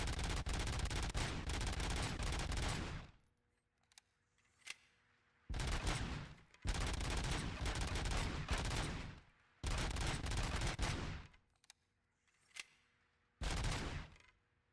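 Rapid automatic gunfire from a gun in RoboCop: Rogue City, fired in several long sustained bursts separated by short pauses with a few isolated shots, loud and close.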